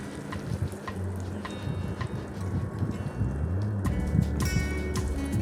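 Semolina and potato batter sizzles in a hot kadai, a steady crackling fry with soft clinks of a ladle, close and moderately loud with no talk.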